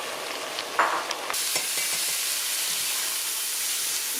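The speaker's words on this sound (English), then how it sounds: "I'm going to let it brown off just a little bit before we put this celery in there." Onions and meat browning in a pot, a loud, steady close-up sizzle that jumps in intensity after a stir, with a few light scrapes early on.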